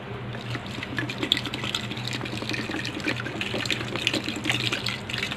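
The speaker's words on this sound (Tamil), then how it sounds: "குக்கரில் போட்டு கொஞ்சம் தண்ணி ஊற்றி" Water poured from close by into a pressure cooker holding tamarind, dates and jaggery for sweet chutney, a steady splashing gush lasting several seconds without talk.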